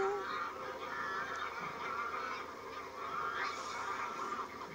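Wild geese honking in a loose flock, several overlapping calls at moderate distance over a steady outdoor background, with no speech.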